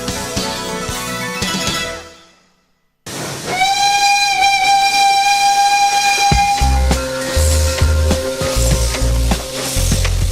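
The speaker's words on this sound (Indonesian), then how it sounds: "Itu kereta lama yang kita restorasi kembali, rehab kembali, kemudian dijadikan kereta wisata." The Sepur Kluthuk Jaladara, a restored vintage steam tourist train, lets out a long, loud steam whistle blast after a brief gap. Hissing steam and rumbling railway noise follow, close and without speech.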